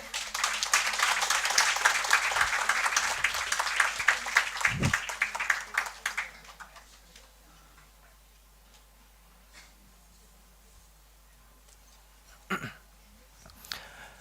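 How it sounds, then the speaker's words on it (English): Audience applause after a performance at a Nobel Peace Prize Day anniversary event, a crowd of hands clapping steadily for about six seconds, then fading to a quiet room with a few stray sounds. "a big round of applause once again."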